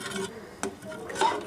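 A spoon stirs mutton paya broth in a metal pot, making a few quiet scrapes and clinks against the sides with soft gaps between them.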